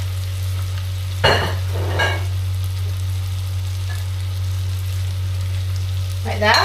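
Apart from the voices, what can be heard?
lamb's liver and onion frying in a pan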